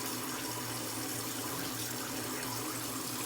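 Tap water runs steadily to fill a bath, a continuous close rushing hiss with a low hum beneath, unbroken and without talk.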